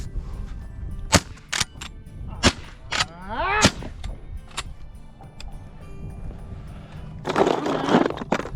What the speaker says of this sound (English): my mate's gun was playing up and he was having trouble chambering rounds on his straight pull shotgun